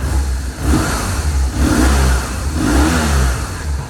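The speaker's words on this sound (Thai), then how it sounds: "เครื่องยนต์เดินนิ่งเงียบ" A BMW R1200RT motorcycle engine runs steadily nearby, a low rumbling drone with gentle rises and falls in pitch, heard alone without talk.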